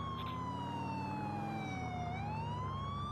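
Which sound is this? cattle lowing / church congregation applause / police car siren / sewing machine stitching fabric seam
police car siren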